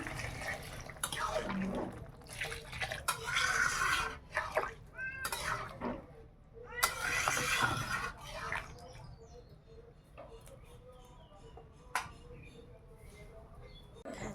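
Hot water poured into a cooking pot of browned chicken curry, a liquid splashing and trickling that comes and goes in bursts, fairly close, with clatter and background noise around it.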